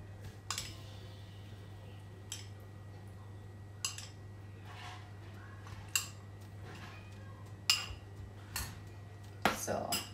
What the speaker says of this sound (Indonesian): ditutup pakai container lid, terus diaduk begini